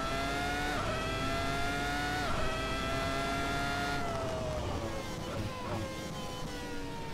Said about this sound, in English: You hear that trill on the upshifts